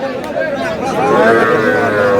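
A Sahiwal bull calf at a cattle market in Dinajpur gives one loud, close, drawn-out moo that rises and holds, with faint crowd chatter behind it.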